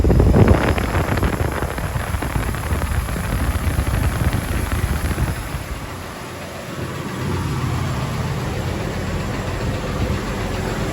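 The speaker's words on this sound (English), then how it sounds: "Compressor's running." A Jeep's air conditioning compressor runs while cold air blows from the vents, a steady loud broadband rush with a faint engine hum beneath it, continuous for the whole stretch.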